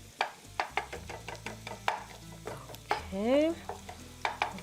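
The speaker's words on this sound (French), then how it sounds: "Donc, je veux vraiment aller les frire." Lebanese stuffed zucchini cooking in a frying pan, heard as a run of sharp, close clinks and scrapes with a soft sizzle beneath, plus a brief spoken word partway through.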